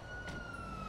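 An ambulance siren sounds in the NoPixel GTA roleplay game as a steady, fairly faint high wail that holds one pitch through the brief moment, over soft background noise.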